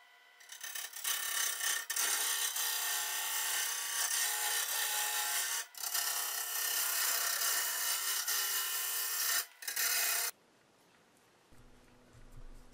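A wood lathe turns a large segmented bowl vase built up from glued wooden discs, and a tool cuts into it with a loud, continuous scraping hiss. Two brief breaks interrupt the sound before it stops, leaving quiet background.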